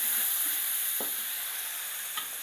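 Pork belly (samcan) stir-fried in a pan with five-spice seasoning, giving a steady, fairly quiet sizzle with a couple of faint utensil taps.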